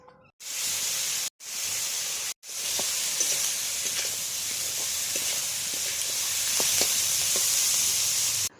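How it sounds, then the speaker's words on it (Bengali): Pointed gourd vines frying in a pan with salt and turmeric give a loud, steady sizzle and hiss, cut by two brief silences early on, with small pops and crackles throughout. "পরিমাণ মতো লবণ, হলুদ গুঁড়ো দিয়ে ভালোভাবে নাড়াচাড়া করে পটল লতিটাকে"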